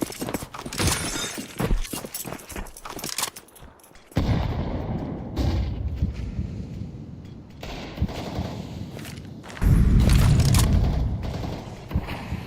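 Gunfire in a competitive Counter-Strike-style match, sharp shots and rapid bursts amid shattering and mechanical game effects, loud and dense with intermittent pauses and no talk.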